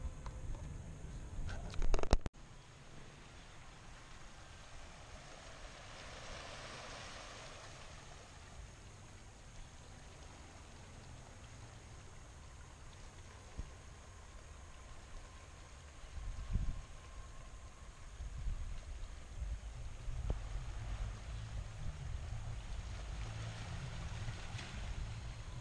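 Waves on the Atlantic Ocean along the Maine coast near a lighthouse, a steady low surf rumble and wash with surges around midway and later, joined by a brief sharp knock near the start.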